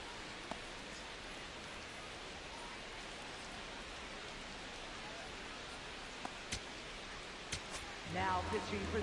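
Steady rain pours down at the ballpark in a baseball video game, an Angels versus Pirates franchise matchup, a dense even hiss lasting throughout with a few faint ticks, and a voice briefly joining near the end.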